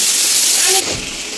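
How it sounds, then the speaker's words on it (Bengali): Garam masala spices fry in hot oil in a kadai, a loud, close sizzling hiss that suddenly drops to a quieter sputter partway through. "গরম মশলাগুলো তেলের মধ্যে ভাজছে"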